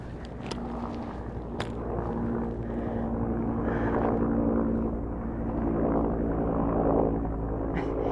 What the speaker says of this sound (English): you hear the helicopter noise